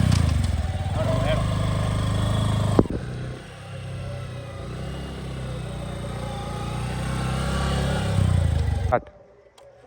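A motorcycle engine runs loudly, then drops to a lower rumble, with people shouting and talking over it; it cuts off near the end.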